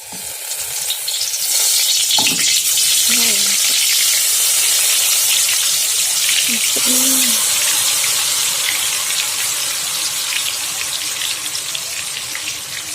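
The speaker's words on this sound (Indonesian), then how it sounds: "Ini minyaknya udah panas, kita masukin cabenya ya" Chillies dropped into hot oil in a wok for balado sambal give a steady, loud broadband sizzle and crackle throughout, with a couple of brief clinks or stirring knocks early on and no talk.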